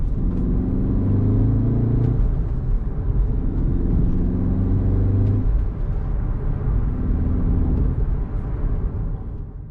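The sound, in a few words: manual car accelerating and shifting up quickly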